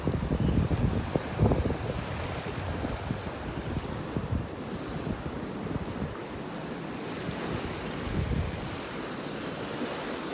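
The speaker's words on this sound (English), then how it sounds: "the waves still making their way up here once in a while." Ocean waves wash onto a beach in North Naples, Florida, a broad continuous roar of surf with stronger surges near the start and again later, mixed with gusty wind noise on the microphone and no talking.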